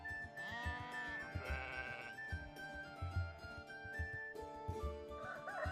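Sheep in a biblical shepherd's pasture bleat several times in wavering, drawn-out calls, close and clear over a busy, continuous background.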